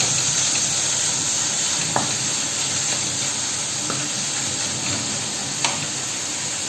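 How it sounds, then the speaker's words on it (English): Steady, continuous sizzling of food frying in a hot pan, with a few faint clinks of utensils over the hiss. "Let the pan keep constantly sizzling."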